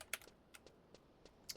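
Faint, sparse key presses on a computer keyboard at a gaming setup, several isolated clicks spaced irregularly with quiet gaps between them.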